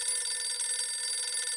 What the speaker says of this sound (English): Just can't stand the sound of a phone ringing.